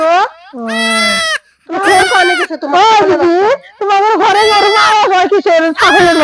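A goat kid bleats loudly and close by in a rapid string of wavering, nasal cries with only brief pauses between them.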